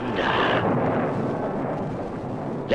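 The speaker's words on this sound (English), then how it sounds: "Roll the thunder." A deep rumble of thunder in a Dracula movie trailer rolls loud and low for a few seconds, fading gradually with a brief sharp crack at the end.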